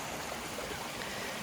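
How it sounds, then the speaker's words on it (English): Small waterfall in an Allegany State Park stream, reduced to a low-flow trickle, giving a steady, soft hiss of running water with no voices. "It's sad, but there's the falls. It's more like a trickle."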